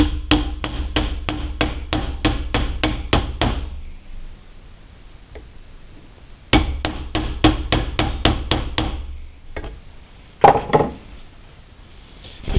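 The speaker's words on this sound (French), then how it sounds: "Et on vient le frapper dedans." Metal hammer blows strike a Chevrolet Van power steering box part in a rapid, even series of about ten sharp clanks. After a pause, a second matching series follows, then a few scattered knocks.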